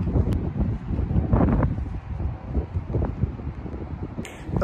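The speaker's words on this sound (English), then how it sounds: "it is windy out here." Gusty wind buffets the microphone in uneven, rumbling waves outdoors in Wichita, Kansas, loud and close throughout, with no one talking.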